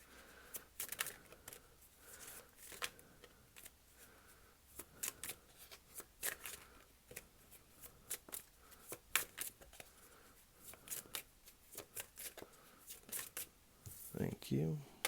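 Tarot cards being shuffled and drawn, with a steady stream of soft, crisp riffles, flicks and taps that come irregularly throughout and grow busier near the end.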